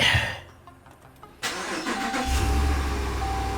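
A RAM 1500 pickup truck's engine cranks briefly and catches, then settles into a steady idle, close and fairly loud with no talking.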